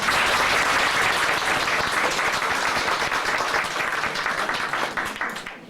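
Audience applause closing a lecture on reincarnation: sustained, loud clapping from a full room that holds steady, then gradually thins and fades out.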